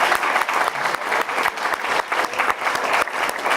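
Audience applause at a journalism awards ceremony, a steady, dense round of clapping from a crowd filling the room throughout, without pauses.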